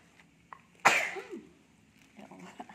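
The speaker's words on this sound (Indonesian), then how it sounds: "kalau pakai bumbu balado ini kita bersin-bersin ya" A single sharp sneeze bursts out near the middle, set off by balado seasoning while potato chips are being made, followed by soft rustling and faint kitchen movement in an otherwise quiet room.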